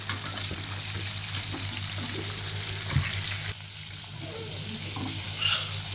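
KFC-style chicken fries steadily in hot oil with a constant close hiss, a few stirring clinks and scrapes breaking through, the sizzle dropping slightly in level partway through; no voices.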